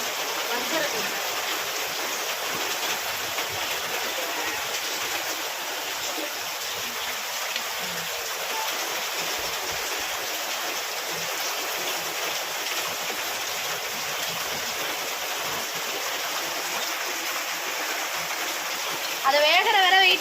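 Rain falls outdoors in a steady, dense hiss that runs unbroken for the full length, with a brief louder splash near the end.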